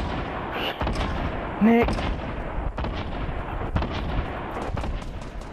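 Shotgun gunfire in the Fortnite video game, heavy booming blasts layered over dense game noise and continuous background rumble, with a voice speaking briefly partway through.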